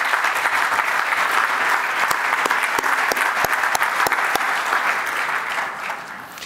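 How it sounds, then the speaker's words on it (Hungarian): At a fair play awards gala, a large audience applauds Jenő Kamuti with loud, sustained clapping and distinct sharp individual claps standing out, easing slightly at the very end. "akkor egy külön tapsot hagyj kérjünk Kamuti Jenőnek"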